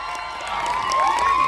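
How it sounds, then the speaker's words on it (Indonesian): A crowd at a press conference for the cast of the film Temurun cheers and shouts, with bright voiced whoops rising over a brief burst of excited noise. "tepuk tangan untuk Yasamin Jasam,"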